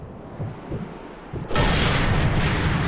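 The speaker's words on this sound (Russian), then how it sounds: "Два выстрела" Muffled gunfire from Sniper Elite 3: a couple of dull, low thumps, then a sudden loud, sustained burst of noise that fills the rest of the moment.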